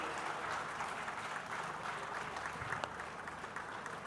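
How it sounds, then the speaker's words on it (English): Steady, distant applause from a large audience at the 18th Pravasi Bharatiya Divas ceremony carries on evenly throughout, soft and unbroken. "this is time for a big round of applause."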